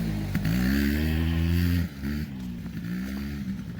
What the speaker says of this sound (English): here comes my kid on an ATV.